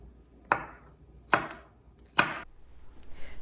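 Three sharp, close knife chops slicing ripe garlic on a cutting board, evenly spaced about a second apart, with no talking.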